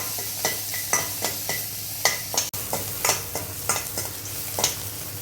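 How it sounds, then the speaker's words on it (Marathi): Onion sautés in a pan with a little oil and ginger-garlic paste. A spatula scrapes through it in regular, close strokes about twice a second over a low, continuous sizzle. "नंतर आपण कांदा घालूया, त्याला छान परतून घ्यायचं आहे"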